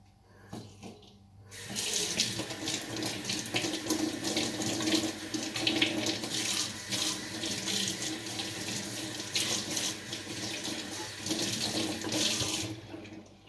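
Tap water gushes steadily into a sink as quinoa is rinsed, starting abruptly after a quiet moment and running as a loud, close, continuous splashing rush until it cuts off at the end.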